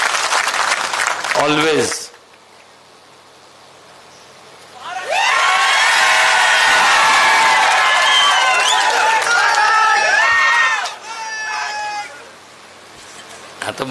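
A crowd at an outdoor election campaign rally breaks into loud, sustained clapping and cheering lasting several seconds, with scattered shouts over it. A brief spoken word comes before the applause, and a rooster-like crow or whistle cuts through near the end.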